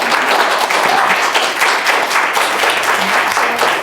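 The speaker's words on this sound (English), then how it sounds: "they're clapping for you" An indoor audience at a community chapter event for Guiding Eyes for the Blind applauds loudly and steadily, with dense, continuous clapping throughout.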